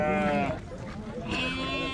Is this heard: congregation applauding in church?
no